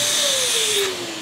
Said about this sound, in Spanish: Ya está conectada nuestra aspiradora Karcher a la corriente.